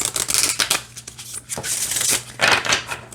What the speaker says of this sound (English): It shuffles just fine.